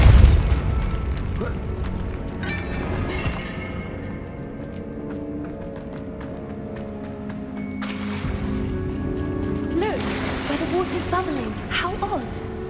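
Depulso spell cast in Hogwarts Legacy, a deep booming magical blast at the start, followed by game music and later layered magic effects and bursts.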